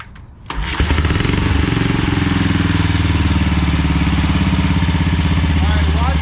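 A 1950 BSA B33 motorcycle engine catches and settles into a loud, close, steady idle with an even rapid thumping beat that runs unbroken to the end.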